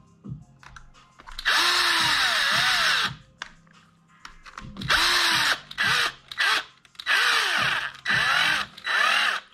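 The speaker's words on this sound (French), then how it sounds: "Pareil, quand on y va à la visseuse," An electric screwdriver drives screws into a Traxxas E-Revo 1/16 RC car during a servo installation. It gives several close, whining bursts that rise and fall in pitch, separated by brief pauses.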